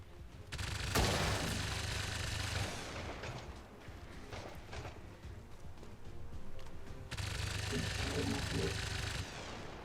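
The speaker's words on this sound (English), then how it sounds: "let's rapid fire the Andromedon's shell" Rapid gunfire aimed at an Andromedon in XCOM 2, dense bursts of shots and heavy booms filling the space, with a loud volley at the start and another near the end, under a background of game noise.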